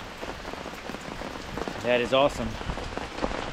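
Steady rain patters down around a campsite during a tropical storm while overlanding with a dog, a continuous wash of drops on surfaces, with a short burst of speech rising briefly above it midway.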